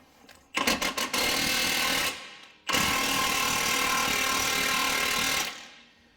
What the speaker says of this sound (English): So we're just going to hit it with the gun. It is a 19 millimeter.